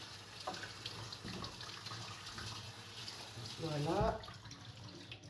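Tap water running into a kitchen sink while vegetables are rinsed for a peanut vegetable and free-range chicken dish, a steady wash of flow under a speaking voice.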